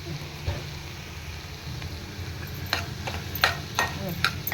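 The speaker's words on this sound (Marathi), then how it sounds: "मीठ टाकून मी छान असं कांदा टोमॅटो बोंबील छान परतवून घेतो" Onion, tomato and bombil (Bombay duck) sautéing in a pan with salt, giving a soft steady sizzle and occasional sharp clicks of a spoon stirring against the metal.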